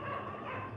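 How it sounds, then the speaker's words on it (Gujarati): Dogs bark once or twice outdoors on a rainy morning in a Gujarati village. The barking is brief and faint beneath steady background noise. "કૂતરું બસવા માંડ્યા"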